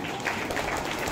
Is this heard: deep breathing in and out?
no